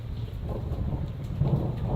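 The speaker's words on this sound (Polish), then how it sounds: "tutaj czekam, aż burza przejdzie" Steady heavy rain roars close by during a thunderstorm in Peru, with low rumbling thunder rolling underneath throughout.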